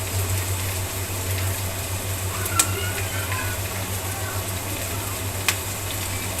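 Onions frying in oil in a pan, a soft continuous sizzle under a low hum, with two brief clicks and someone speaking faintly.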